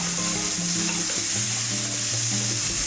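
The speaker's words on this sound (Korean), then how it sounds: "표고를 넣고 살짝 볶다 소금을 한 꼬집 넣어주세요. 표고가 노릇해질 때까지 볶아주세요." Shiitake mushrooms with a pinch of salt fry in a pan, giving a steady, close, bright sizzle with soft stirring shuffles underneath and no voices.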